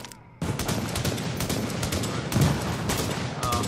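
Sniper rifle shots ring out in The Division, a loud sustained barrage of gunfire with sharp repeated cracks over steady battle noise, a voice briefly audible beneath it.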